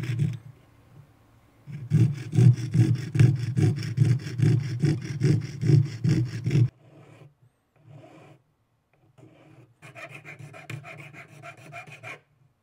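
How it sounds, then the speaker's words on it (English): A jeweler's saw cuts out small pieces for a Ravager blaster prop from Guardians of the Galaxy Vol. 2, making a close, loud, rhythmic rasping for several seconds. Shorter bursts of sawing follow after a pause. "I'm going to go over and cut them with the jeweler saw to get them cut out"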